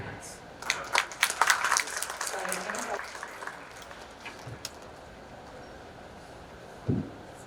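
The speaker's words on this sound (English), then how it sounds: "Show it to us with a round of applause, ladies and gentlemen" An audience applauds after an entrepreneurs' conversation session with a minister: a burst of close, uneven clapping that thins out and fades within a few seconds, with a voice speaking over it and a lone thump near the end.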